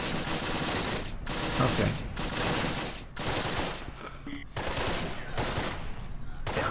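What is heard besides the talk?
grenades exploding in the video game Close Combat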